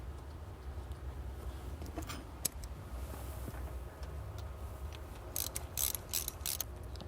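A ratchet tightens the bolts on a thermostat bracket, with sparse soft clicks and a sharp tap early on, then a quick cluster of close ratcheting bursts near the end over faint background hum.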